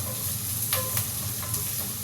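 Garlic and other ingredients sauté in a hot pan, giving a steady sizzle with a few soft stirring scrapes, close by and with no talking.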